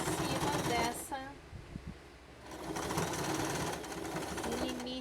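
Sewing machine stitching a fabric toiletry case, a fast steady mechanical whir that starts, pauses briefly and resumes, with someone talking over it.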